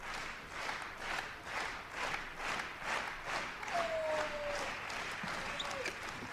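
Crowd at a 2008 European Badminton Championship men's doubles match claps in steady rhythmic unison, the beats swelling and fading in regular waves, with a faint whistle-like tone partway through.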